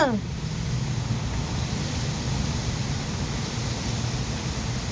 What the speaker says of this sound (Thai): เสียงลมเลยพี่น้องเด้อ เสียงลมบุกเลยแหละ